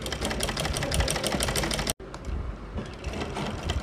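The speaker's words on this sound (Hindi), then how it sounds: "ठीक हम उसी तरह से दूसरी साइड में सिलाई लगा लेंगे" A sewing machine runs a fast, continuous stitching seam on a boat-neck kurti, close and steady with a dense mechanical rattle and one very brief break midway.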